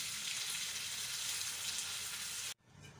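Onions and chicken fry in oil in a pan with a loud, dense, steady sizzle heard up close, which cuts off abruptly near the end and leaves a quieter background.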